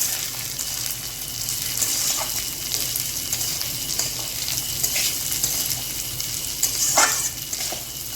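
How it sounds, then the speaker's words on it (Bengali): Mung dal frying in a pan with cumin seeds, giving a steady, close sizzle with occasional stirring scrapes and brief bursts of crackle. "একটু ভাজা ভাজা হলে ডালটা,"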